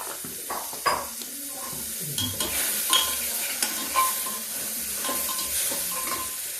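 Chopped tomatoes with Kashmiri chilli and salt fry in a pan at home, a soft, steady sizzle broken by a few scraping stirs of a spoon, fairly quiet and close.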